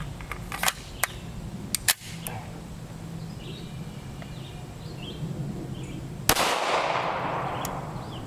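A 5.7 pistol fires a single 62 grain full metal jacket subsonic round, a sharp close crack followed by a brief decaying ring, with faint clicks and handling noises before it.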